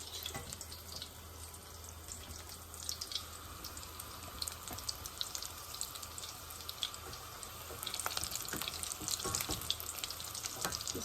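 Falafel frying in hot oil in a pan, a steady bubbling sizzle with crackling pops that swells louder toward the end, near and continuous with no talking.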